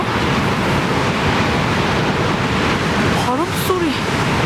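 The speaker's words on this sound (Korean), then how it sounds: "와, 나 바람소리 이렇게 센 거 처음 들어봐." Strong wind blowing at a campsite abroad, a loud continuous roar and rush with gusty buffeting, close and filling the scene, with a brief voice briefly audible near the end.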